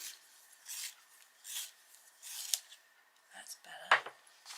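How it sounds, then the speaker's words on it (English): A sepia colored pencil turned in a handheld sharpener while coloring, giving soft scraping grinds in short bursts close up, fairly quiet, ending with a few light clicks and taps. "Ah, got another sharpener."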